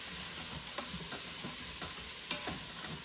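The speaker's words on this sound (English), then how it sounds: "I'm gonna give this a stir." Diced carrots and other chopped vegetables being stirred in a pot for Italian wedding soup, with scattered scrapes and clicks of a spoon over a steady low background, close and fairly quiet.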